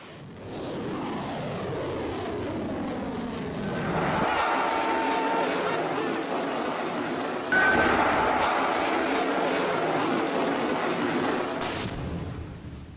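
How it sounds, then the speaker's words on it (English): Test launch of a Fateh surface-to-surface missile with a 120-kilometre range, a loud, sustained roaring rush that builds and holds for over ten seconds like a jet engine, with no one speaking. "Then today, another missile was tested. It's called the Fateh surface-to-surface missile."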